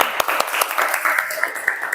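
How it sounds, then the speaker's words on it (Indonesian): A school class gives a short round of applause, a brief patter of clapping with a few distinct sharper claps, and some voices mixed in underneath. "Tepuk tangan dong."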